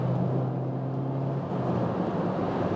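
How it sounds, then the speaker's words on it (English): A Ford Ka+ (Ford Figo) with a naturally aspirated engine pulls in 2nd gear, a steady droning engine note under road and wind rush, the low tone holding then fading into broadband noise. "those naturally aspirated engines have better sound than the turbo engines"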